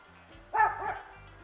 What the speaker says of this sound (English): there was a dog over there, and it was barking at me